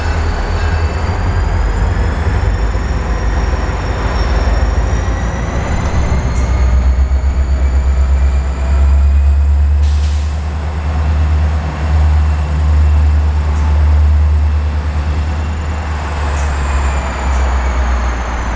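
Wheeling and Lake Erie freight train hauled by EMD locomotives, a loud, steady diesel rumble with deep low drone and rolling rail noise running continuously and close by, no talking.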